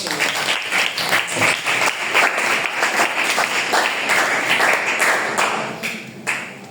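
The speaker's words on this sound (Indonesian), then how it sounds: "boleh kasih tepuk tangan" Classroom audience applauding a student group, a lively mix of individual claps from a modest crowd, fairly close and steady, tapering slightly at the end.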